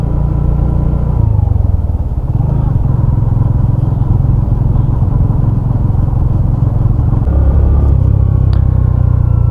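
A Suzuki Hayate EP motorcycle engine idles loudly and close, a steady low putter with a slight dip in pitch around two seconds, running alone without talk.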